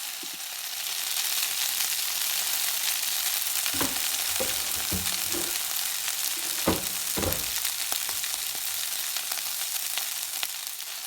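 Udon noodles and vegetables fry in a pan with a steady, moderate sizzle, while a few knocks and scrapes of stirring break through near the middle.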